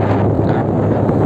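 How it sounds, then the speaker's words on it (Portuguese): Strong wind at the Itupararanga reservoir roars steadily and buffets the microphone in a continuous, loud, low rumble with no pauses. "Tá um vento monstruoso aqui, um vento gostoso, gente."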